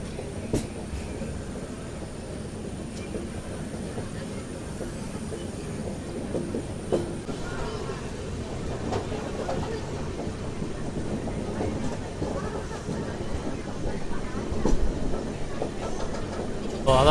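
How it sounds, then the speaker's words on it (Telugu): Secunderabad-Guntur Intercity SF Express train rolling through a long half-circle curve past hills, a steady close rumble of wheels and carriages with faint rhythmic clatter, building slightly louder toward the end. "సో ఇక్కడ చూసుకోవచ్చు మన ట్రైన్ వచ్చేసి బ్యూటిఫుల్ హాఫ్ సర్కిల్ అయితే కొడుతుంది"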